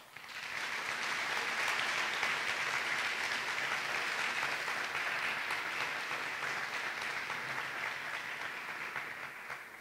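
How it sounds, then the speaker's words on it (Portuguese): A congregation at a church service gives a strong round of applause, a sustained, even roar of many hands clapping that swells in and holds steady for the whole stretch before easing slightly. "essa família quer dar especialmente a você uma forte salva de palmas"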